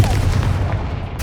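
A Confringo fire spell blasting in Hogwarts Legacy while a Hufflepuff witch explores Hogwarts in winter, a dense booming burst with a low rumbling body that holds steady and then fades slightly.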